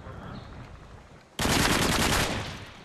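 Rapid automatic gunfire erupts suddenly in a Search and Destroy video game match, a dense, loud continuous burst lasting about a second and a half after a quieter stretch of game ambience.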